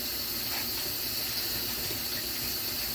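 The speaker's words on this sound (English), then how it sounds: "rinse them for a little while under the cool water" Tap water runs steadily in a constant hiss and splash, close and fairly quiet, with no voices.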